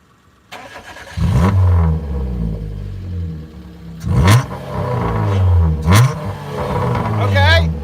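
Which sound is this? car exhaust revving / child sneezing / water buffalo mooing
car exhaust revving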